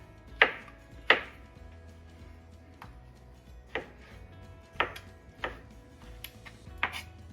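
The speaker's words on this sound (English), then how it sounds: "Now, time to chop up the tomatoes" Tomatoes being chopped for salsa with a knife on a cutting board, several sharp, separate knocks spaced irregularly, close and clear over a quiet background.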